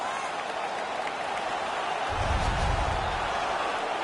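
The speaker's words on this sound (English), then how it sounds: "The crowd is ecstatic" A hockey arena crowd at a Buffalo playoff game against the Toronto Maple Leafs roars steadily after a fight, a dense, continuous wash of cheering that swells louder halfway through.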